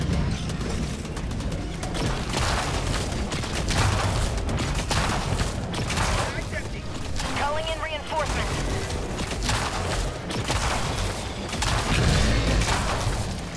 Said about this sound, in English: That's an airstrike on the breach.